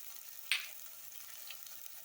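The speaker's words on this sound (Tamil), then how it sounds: "மிளகாத்தூள் இதை சேர்த்துட்டு சும்மா 1 நிமிஷம் வதக்கினா போதும்." Turmeric and chili powder frying in oil in a pan for millet chicken biryani: a faint, steady hiss of sizzling with one brief sharper crackle near the start, no voices.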